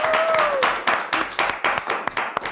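Studio audience applauds a quiz team on a children's educational show, a steady round of clapping with sharp individual claps standing out near the mic, a brief whistle-like tone at the start.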